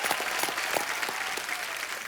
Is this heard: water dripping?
no